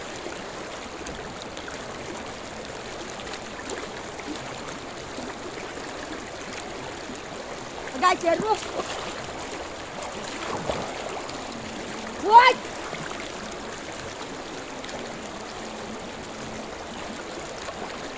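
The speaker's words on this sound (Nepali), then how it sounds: "यता चाहिँ बग्ने खोला" A swollen stream flows steadily as a broadband water rush while people wade and swim, with someone talking and a few brief splashes nearby.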